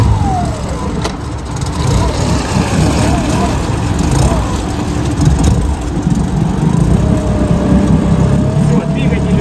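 A rescue boat's engine runs at a steady, loud idle-like drone, close by, while someone speaks over it at intervals throughout.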